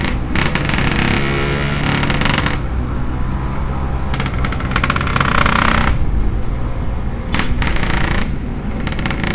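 Yamaha RX-King two-stroke motorcycle with an aftermarket exhaust revving hard, loud bursts of crackling rasp rising and dropping several times close by, with brief lower idle between throttle blips.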